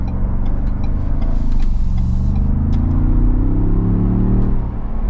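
A Ford Bronco Sasquatch accelerates on the road, heard from inside: a loud, close engine rumble whose pitch climbs steadily as the vehicle gains speed, with no talking.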